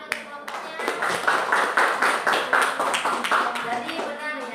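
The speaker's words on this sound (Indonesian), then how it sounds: "Oke, tepuk tangan untuk kelompoknya" Classroom clapping for a student group: a rhythmic, fairly close run of sharp claps in steady beats, fading slightly at the end, with some voices mixed in.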